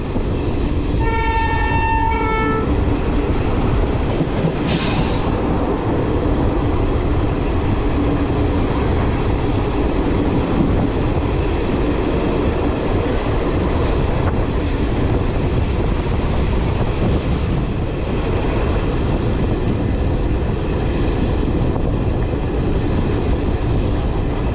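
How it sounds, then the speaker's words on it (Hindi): Haldibari–Kolkata Intercity Express pulling into Harishchandrapur station, its horn sounding briefly at the start and the rumble of rolling wagons continuing loud and steady throughout, with no voices. "अब हमारी इंटरसिटी एक्सप्रेस 236 किलोमीटर का डिस्टेंस कवर करके आ चुकी है हरिश्चंद्रापुर रेलवे स्टेशन पर"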